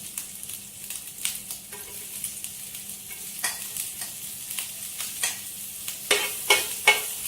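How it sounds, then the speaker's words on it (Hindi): Green chillies fry in hot cooking oil, a constant near sizzle broken by sharp crackles and pops that come in irregular bursts, with no voice. "थोड़ा सा कुकिंग ऑयल और डलेगा। इसके साथ ही हरी मिर्ची डालें।"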